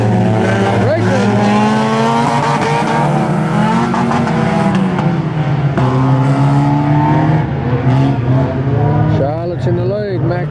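Speedway race cars roaring around a track under lights at an ACT speedway meeting, a loud continuous blend of engines rising and falling in pitch as they pass, with a commentator talking over it throughout.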